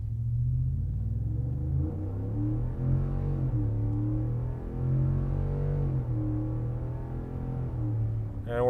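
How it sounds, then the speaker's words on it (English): A 2022 Ford F-150 5.0 fitted with a Flowmaster Super HP2 muffler accelerating hard, heard from inside the cab as a steady low engine rumble that rises and drops with gear changes, moderately quiet and with no talking. "I'm going to accelerate pretty quickly, get up to the speed limit here."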